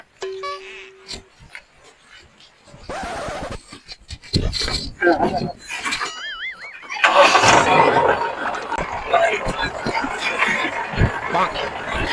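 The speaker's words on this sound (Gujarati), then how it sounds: "ટ્રેક્ટર ચાલુ કર" A farm tractor engine cranks and catches partway through, then settles into a loud, rough running rumble, with people talking and calling out around it.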